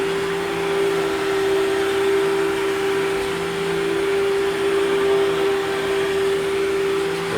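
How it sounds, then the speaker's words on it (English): Steady, loud vacuum cleaner drone with a constant motor hum, running without pause as a carpet gets pre-vacuumed to lift dry soil ahead of pre-treatment and agitation in a professional carpet cleaning job. "just pre-vacuuming, getting up any dry soil"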